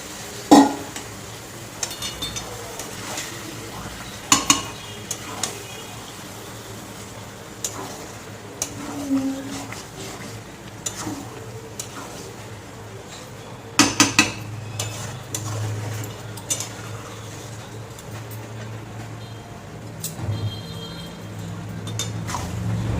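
Boiled kidney beans and chana dal are tipped into a simmering chicken curry and stirred. Occasional spoon clinks and scrapes sit over a steady low cooking hum, close up, with no voices.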